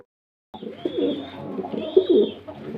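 Fancy pigeons coo close by in soft, throaty bursts, several rolling calls over a couple of seconds after a short silence.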